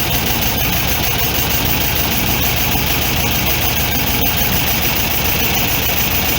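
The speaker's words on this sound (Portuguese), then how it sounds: "Vou ir fechando um por vez, devagar. Note que a rotação do motor vai subindo." Air-cooled VW Beetle flat-four with twin Solex 32 PDSI carburetors running steadily at idle during a mixture-screw adjustment, a constant loud close chugging with no clear rise in revs.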